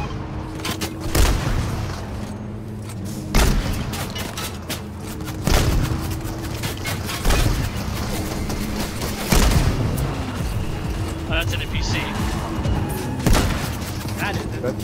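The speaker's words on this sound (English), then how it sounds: "Directly ahead of us, I saw an explosion." Explosions and cannon blasts in the video game Fortnite, a series of sharp booms at roughly two-second intervals over a constant game rumble, with players talking throughout.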